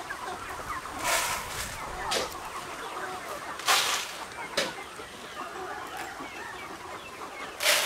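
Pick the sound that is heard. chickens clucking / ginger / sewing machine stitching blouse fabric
chickens clucking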